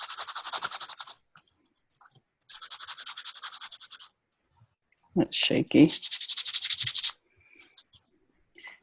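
Rapid rhythmic scratching of sandpaper rubbed back and forth over a card surface in three bursts, with a brief spoken remark in between.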